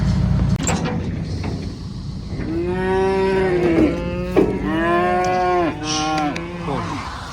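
Cattle moo loudly and close by in a farm setting during calving season, a series of long, drawn-out calls with rising and falling tone repeating over several seconds against steady outdoor background noise.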